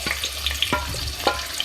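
Sliced onion sizzles in hot oil, a short burst of close, busy frying with a few sharp spatula scrapes against the pan.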